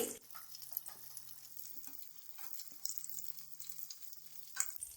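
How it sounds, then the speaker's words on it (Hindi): Crispy aloo tikki potato patties frying in oil, a faint steady sizzle with light crackles and an occasional soft clatter, quiet and close, with no talking. "टिक्की हमारी अच्छे से फ्राई हो गई है।"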